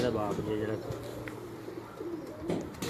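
A tournament pigeon in Lahore coos softly nearby in a few low, rolling calls, while people talk in the background.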